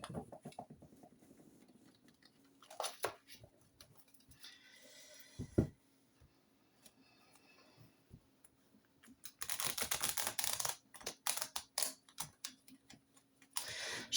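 Tarot cards being gathered and reshuffled by hand for a reading, giving soft papery riffles and taps in scattered bursts, with a denser run of shuffling near the end, close and fairly quiet.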